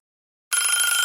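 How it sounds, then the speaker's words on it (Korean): A telephone rings for a call being placed, a bright electronic ringing tone that starts abruptly after half a second of silence and holds steady and fairly loud to the end. "시아버지는 전화를 하셨습니다."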